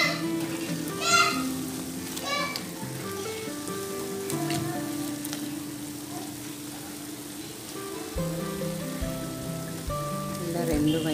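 Rasgulla fry in a pan with a continuous, even sizzle and crackle like light rain, heard close throughout under faint background tones.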